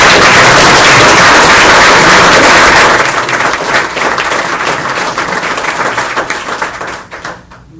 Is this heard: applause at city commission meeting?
yes